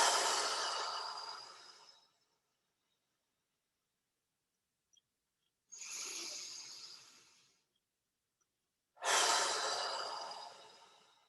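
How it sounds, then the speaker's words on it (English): Three slow, deep breaths in through the nose and out through the mouth during a morning practice, each a long soft airy rush fading out, separated by silent pauses, close and alone. "take a few nice deep breaths in and out. You can inhale through the nose and then you can exhale through the mouth"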